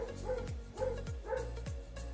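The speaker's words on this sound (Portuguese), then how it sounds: "não repara o cachorro latindo" A dog barks repeatedly in a steady rhythm, about four loud, close barks with short yelps between them, heard alone indoors at home.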